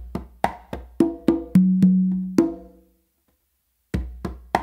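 Songo variation on two congas, conga and tumba, with an open on the conga, heard as a run of close, crisp hand strikes and ringing open tones that stop for about a second before the pattern resumes.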